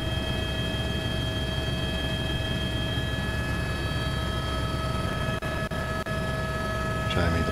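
Steady aircraft cabin drone with strong engine hum while flying over the Franz Josef Glacier valley in New Zealand's Southern Alps, loud and continuous, with a few brief knocks near the end.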